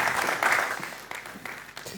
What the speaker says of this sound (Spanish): Un aplauso para Javier.